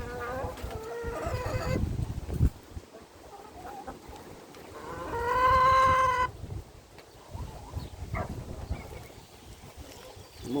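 Backyard chickens with a rooster among them cluck and call repeatedly, with a louder drawn-out crow in the middle, set against gusty high wind ahead of a storm.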